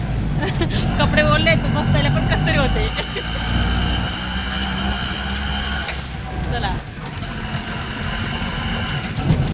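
An auto rickshaw engine drones and rattles steadily up close, a continuous mid-pitched motor hum with street noise, while people talk over it throughout.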